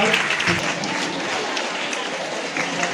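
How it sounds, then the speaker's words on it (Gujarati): Students and guests at a high school founding-day prize distribution ceremony clap together in sustained, moderately loud applause, a broad crowd patter with a few louder bursts. "અભિનંદન, તાળી પાડતા રહેજો"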